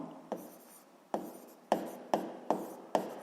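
Chalk or marker strokes on a board while writing out the law of conservation of momentum in a seventh-grade physics lesson, six short scratchy strokes in an uneven rhythm, close and fairly quiet, with no voice.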